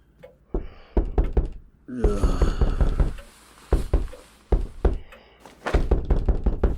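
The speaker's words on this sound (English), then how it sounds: "I awoke to a loud knocking, my head still swirling with sleep" Loud knocking on a wooden door comes in several quick clusters of sharp raps, separated by brief pauses and a stretch of rumbling, with no voices heard.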